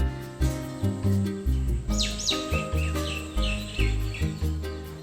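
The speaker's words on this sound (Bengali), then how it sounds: "সারা দিন পাখির ডাক শুনতে পাবে নানা রকম" Several birds call and chirp at mid distance over a steady, rhythmic pulsing background hum, with sweeping whistled notes repeating throughout.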